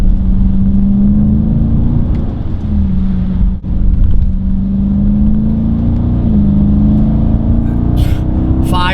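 A Dodge Durango SRT AWD engine revs hard and holds high RPM while driving through snow at speed, a loud continuous drone with a brief dip and renewed surge.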